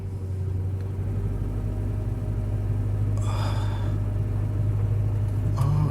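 A manual-transmission car idles roughly after a frigid cold start at -22F, with a deep, steady engine rumble. The drone grows slightly as the clutch is let out, a brief hiss and clatter pass midway, and no voices are heard.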